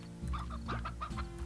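Chickens in the farming game Slime Rancher cluck in a quick series of short, close calls over a steady low background hum.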